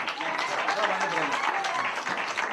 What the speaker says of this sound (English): Come on, clap hands for them.